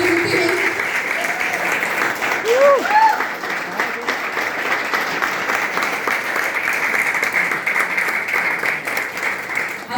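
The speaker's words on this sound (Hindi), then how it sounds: "आपने जो ताली बजाया" An audience at a presentation applauds in steady, sustained clapping throughout, with brief voices rising above the applause partway through.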